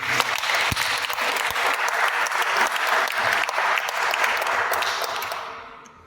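A church audience at a mission farewell in Congo breaks into sustained, dense applause that holds steady, then fades away toward the end.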